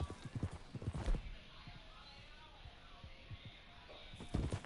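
Horse hooves clip-clop at a steady walking pace in Red Dead Redemption 2, moderately close, with two riders talking over the hoofbeats.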